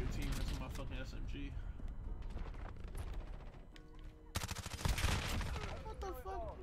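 Rapid bursts of M13 rifle fire in Call of Duty: Modern Warfare, crackling in dense automatic strings under ongoing game sounds and talking voices, with a heavier flurry of shots near the end.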